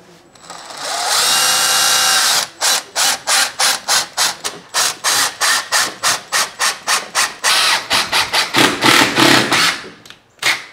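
A power drill drives screws into a replacement window frame in a brick home: one long continuous whir, then a rapid series of short, loud clicking ratchet bursts close by.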